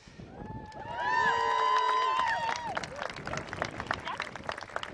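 Wedding guests in Cornwall break into loud cheering and whooping after the couple's kiss, a swelling crowd roar with high shouts that holds for a couple of seconds, then settles into scattered clapping and chatter.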